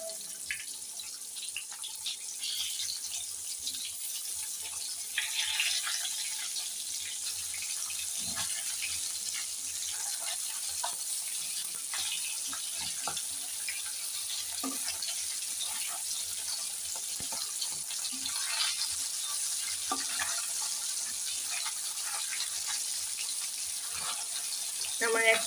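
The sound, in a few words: fish frying in a pan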